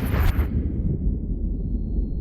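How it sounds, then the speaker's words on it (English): Heavy artillery gun firing an HE shell in the Iron Nest simulator, a single loud deep blast with a bright crack at the start, then a low rumbling boom decaying over a couple of seconds. "Prime the gun and fire!"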